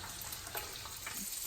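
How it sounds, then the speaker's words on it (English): Garlic sizzles softly in a hot pan, a steady, quiet crackling hiss with faint pops throughout. "We've got the garlic starting to sizzle there."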